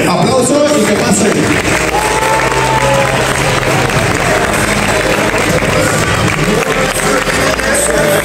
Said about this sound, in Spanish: me gustaría que todos ustedes los recibieran con un gran aplauso a todos mis amigos